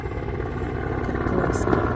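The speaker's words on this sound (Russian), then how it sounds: "Вертолет летит." A helicopter flies over a forest village in a steady, loud, throbbing drone of rotor and engine that swells slightly toward the end, with faint chirps above it.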